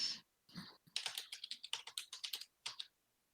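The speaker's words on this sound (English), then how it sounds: "you're need- gonna hear typing for a second." Fast typing on a computer keyboard during an online Dungeons & Dragons 5E session: a brisk, close run of clicking keystrokes that stops briefly, then ends with a few final taps. No one speaks.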